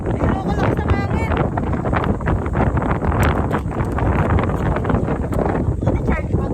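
Strong wind buffets the microphone with a constant roar during an outdoor ride to Malico, with people talking over it throughout.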